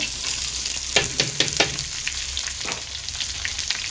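Onions go into hot oil with curry leaves for a curd curry, setting off a burst of crackling spits over a continuous close sizzle that settles back to a steady fry.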